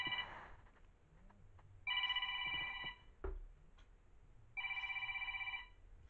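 A mobile phone rings beside a live poker game, sounding two bursts of a repeating electronic ringtone pattern, clear and close, with a brief knock between them.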